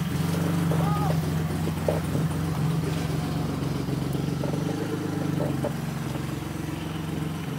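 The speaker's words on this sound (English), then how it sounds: "I still can't believe how quickly it just fires up" A rare 1970s BMW CS Coupe, a barn find left untouched for 38 years, runs right after starting, its engine holding a steady low idle rumble throughout while people talk excitedly over it.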